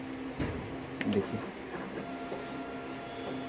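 A Kyocera TASKalfa 1801 copier prints an A3 page, a steady mechanical whirr and hiss with clicks and clunks from the paper feed, close by, with a voice talking over parts of it.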